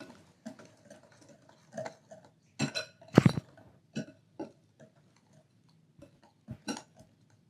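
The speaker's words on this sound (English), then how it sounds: "We're whisking together the dry ingredients, and then we're setting them aside." A whisk clicks and taps against a bowl while mixing cinnamon, nutmeg and allspice as dry ingredients for gluten-free baked apple cider donuts, in irregular close bursts with quiet gaps between.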